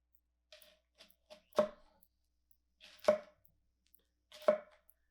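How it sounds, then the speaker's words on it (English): A Nakiri Japanese knife dices an onion on a cutting board, giving light taps followed by three louder, separate chops that land about every second and a half, close up with no voices. "Now I got this nice big diced onion for a soup or a stew or something."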